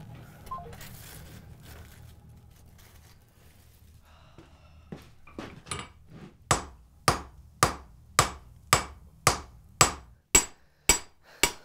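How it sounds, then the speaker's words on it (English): A hammer forges wrought iron out into a thin sheet: after quiet shop ambience, sharp metallic blows start softly, then ring loud and evenly spaced, about a dozen strikes in a steady rhythm. "forging wrought iron out into a thin sheet like this is one of the greatest tests of its quality"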